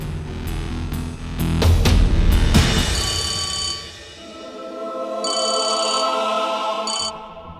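A phone in a Hindi TV drama setting gives repeated bright bursts of ringing, first several sharp rings under a busy noisy stretch, then a steadier electronic ring pattern that stops and briefly resumes near the end.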